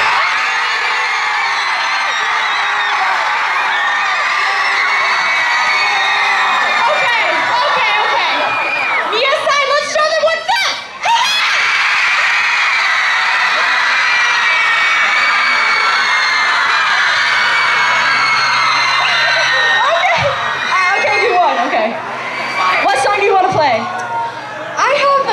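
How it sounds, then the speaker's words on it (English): A concert crowd at Rock The Hill screams and cheers in a loud, sustained roar that lasts throughout, with a few sharper shouts and a brief dip partway through. "Whoever screams the loudest on my side, it's my song."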